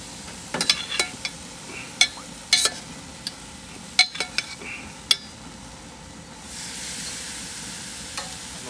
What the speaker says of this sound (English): Put it on the grill and just let it cook for another couple minutes.